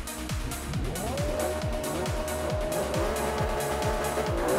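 Lamborghini supercar engine in the racing game Forza 5, a loud continuous roar with repeated rising gear-shift sweeps and some tire squeal, steady and close throughout.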